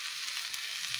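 Dosa topped with sauce cooking on a hot pan, a bright continuous sizzle heard close and alone for a brief moment.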